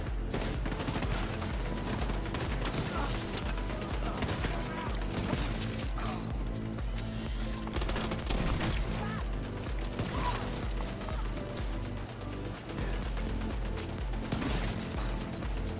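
Rapid bursts of gunfire and automatic weapon shots in The Division 2, loud and dense throughout, mixed with impacts and game effects, with a voice briefly talking.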